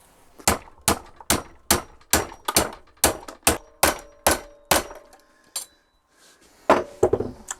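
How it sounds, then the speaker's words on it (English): A series of about a dozen sharp, evenly spaced hammer blows on wood, loud and close, then a brief pause before a few quicker knocks. "a bunch of punishing blows from a hammer"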